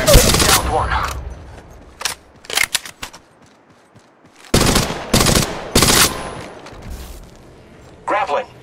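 Automatic gunfire in the video game Apex Legends rattles in loud rapid bursts separated by short quiet gaps. The game's voice callouts come in between the volleys.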